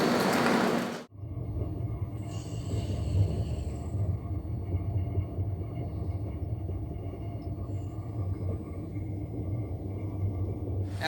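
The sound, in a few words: Samleswari Express train entering Tatanagar station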